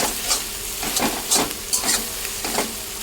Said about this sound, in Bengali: এরকম ভালো করে মশলাটাকে কষিয়ে নিই